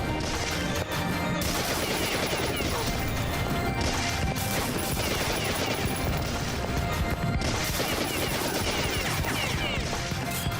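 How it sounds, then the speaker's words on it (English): Rapid gunfire from a jamming gun in the video game Beyond Citadel, a dense continuous barrage of loud shots and crashing impacts with brief stutters, filling the whole stretch. "This gun's jamming too much."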